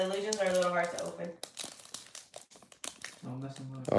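A foil trading card pack wrapper is crinkled and torn at as someone struggles to open it, bursts of sharp crackling close to the microphone between stretches of talking.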